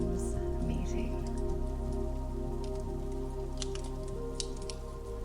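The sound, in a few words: rain falling outside a cabin in the woods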